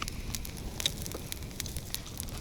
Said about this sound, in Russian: Как тебе нравится наш костер?